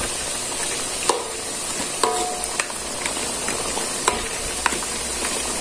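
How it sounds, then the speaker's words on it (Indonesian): Potatoes fry in a pan with a constant bright sizzle, broken by several sharp clinks of a utensil stirring against the pan. "Nah, ini sih goreng kentang."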